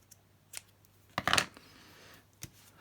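Scissors snip off a piece of craft material, giving a couple of soft isolated clips and then one crisp, louder cut, recorded close in a quiet room.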